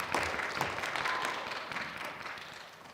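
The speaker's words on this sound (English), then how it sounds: "Let's give her a round of applause." Applause at a third-grade school spelling bee: a steady, fairly soft round of clapping from the audience, continuous for the whole stretch with no talk.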